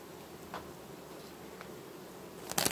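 Honey bees buzz in an opened hive during a late-August colony inspection, a faint steady drone with a few soft knocks and a brief louder rustle near the end.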